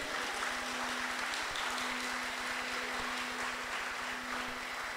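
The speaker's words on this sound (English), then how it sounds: "Oh, please, clap." Continuous applause from an audience at a Brooklyn temple gathering, a dense steady wash of clapping filling the whole stretch with a low hum underneath.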